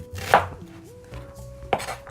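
A knife cuts through half an onion on a cutting board while Korean spicy chicken stew is being prepared. Two distinct, close chopping thuds land about 1.4 seconds apart against a quiet kitchen background with no talking.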